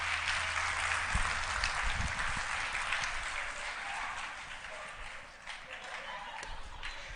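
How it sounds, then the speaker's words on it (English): An audience at a keynote talk applauds for Sarah, a dense, steady wash of clapping from a crowd that holds throughout and eases slightly toward the end, heard at a moderate distance. "Give Sarah a round of applause."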